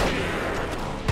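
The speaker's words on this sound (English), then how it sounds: "I'm switching to the shotgun." A shotgun fires in the video game Resistance, a loud, dense blast of gunfire filling the short moment, with no speech.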